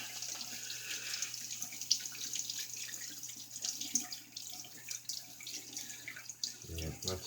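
Running tap water splashes over a worn shaving brush with a small knot as it is rinsed in a sink, a steady close hiss with faint drips and handling noises throughout.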